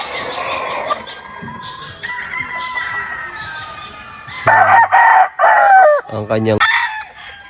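A dirty doom gamecock of the Escolin Taxman line crows in bursts over farmyard ambience, with other fowl clucking nearby and a voice speaking briefly.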